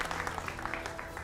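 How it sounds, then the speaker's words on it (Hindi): Brief applause welcoming guests to a televised Hindi debate studio, a short burst of clapping at fairly low level with a faint hum beneath. "जोरदार तालियों से स्वागत"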